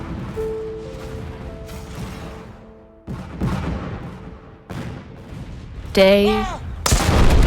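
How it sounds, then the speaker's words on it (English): Civil War artillery bombarding Vicksburg, several heavy booming blasts with long decaying rumbles spaced a second or two apart, a whistling shell streak near the end, and a brief spoken word over it. "Grant's artillery tries to pound Vicksburg into submission"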